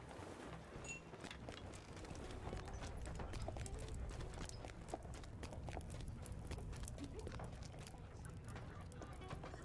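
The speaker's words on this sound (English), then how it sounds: "That's a very pretty horse." Horse hooves clip-clop in the LOTRO video game, a faint, steady run of hoofbeats against a quiet background.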